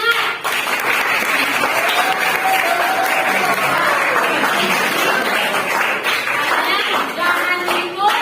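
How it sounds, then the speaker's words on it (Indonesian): Students in a classroom lesson clap their hands together in a sustained, even burst of applause, close and lively, with faint voices underneath. "tepuk tangan"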